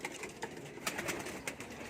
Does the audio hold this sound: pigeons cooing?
yes